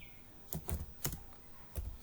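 Keys are pressed on a computer keyboard, a few separate clicks spaced apart across two seconds, close and fairly quiet with no speech.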